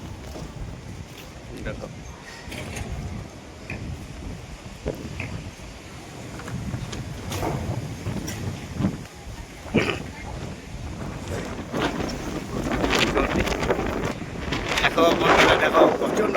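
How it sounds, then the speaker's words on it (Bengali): Strong storm wind blows outdoors in Asansol, a steady broadband rush with gusts that swell louder toward the end, while a person talks over it. "দেখো প্রচন্ড হাওয়া দিচ্ছি"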